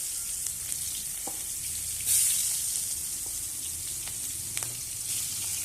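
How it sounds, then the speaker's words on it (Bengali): Onions tip into hot oil in a wok for a fish curry, a sudden loud sizzle flaring up that then settles into a steady, fainter crackle. "কড়াইয়ে পেঁয়াজ দিয়ে দেব।"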